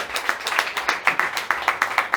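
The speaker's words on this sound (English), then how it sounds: "I think that deserves a round of applause." A round of applause at a sports games draw and launch event, steady rhythmic clapping from a room of people with sharp individual claps standing out, moderately loud and continuous throughout.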